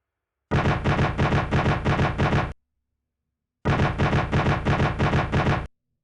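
Two long bursts of rapid automatic gunfire from aircraft in the naval warfare game CMANO, loud and close, each about two seconds, separated by a short silence.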